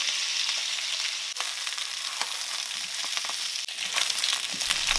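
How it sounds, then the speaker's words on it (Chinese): Beef ribs stir-fried in a wok with aromatics like bay leaf, star anise and garlic, giving a steady loud sizzle broken by repeated sharp tossing and scraping strokes. "炒香之后下入牛肋条"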